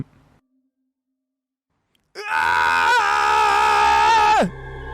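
After a brief silence, a loud, drawn-out scream rises abruptly and holds for about two seconds before cutting off sharply.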